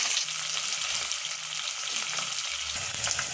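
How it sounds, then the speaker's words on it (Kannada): Onion fries in hot oil with browned chana dal and urad dal, a continuous close sizzle with light stirring, no voices over it. "ಅದು ಕಡಲೆಬೇಳೆ ಮತ್ತು ಉದ್ದಿನಬೇಳೆ ಬ್ರೌನ್ ಆದಮೇಲೆ ಈರುಳ್ಳಿ ಹಾಕ್ಕೊಳ್ಳೋಣ"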